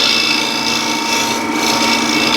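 A scraper shears across crossgrain wood spinning on a lathe, a steady close rasping hiss with a faint fluttering texture throughout.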